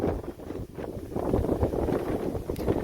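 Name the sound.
strong wind gust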